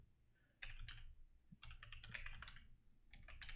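Keys clatter on a computer keyboard as an email address is typed, in quick bursts of close, crisp clicks separated by short pauses, with no talking.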